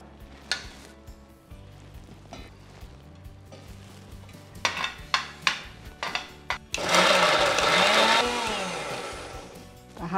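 A mixer grinder grinds a cooled, sautéed masala paste with tomato: scattered clinks and clatter, then a loud, rough whirring burst of about two seconds that rises and winds down, with no talking.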